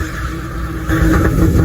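A racing car engine in the video game Live for Speed hums steadily, then rises in pitch and loudness as it revs up toward the end.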